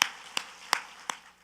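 Four sharp, evenly spaced claps from a church congregation, roughly one every third of a second, crisp and fairly close in a quiet room.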